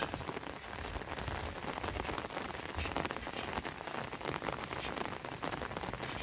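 A heavy downpour in Thailand drums hard and continuously on surfaces, a dense close hiss of rain with no voices over it.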